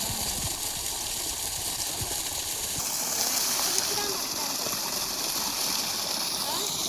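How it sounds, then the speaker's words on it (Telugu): Water gushing steadily from a borewell pipe driven by a 7.5 HP six-stage pump set 140 feet down, a loud continuous rushing splash that grows fuller partway through. "నీళ్ళు చూడండి బాగానే వస్తున్నాయి"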